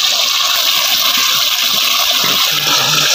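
Cold water gushes steadily and loudly into a pan of curry cooking in a kadai over a village wood-fired stove, a continuous close pouring rush without pause.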